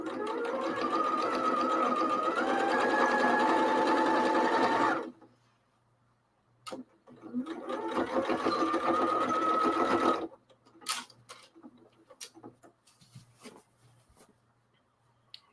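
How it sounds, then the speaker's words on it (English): Sewing machine backstitching over the meeting seams of a fabric grocery bag: two loud whirring runs of stitching close up, separated by a pause, then light clicks and handling. "I'm also going to backstitch over top of this where these seams meet."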